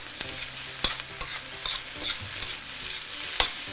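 A spatula scrapes and tosses Chinese fried rice with Chinese sausage around a hot wok, rhythmic clanking strokes about every half second over a soft, steady sizzle, close and clear with no talking.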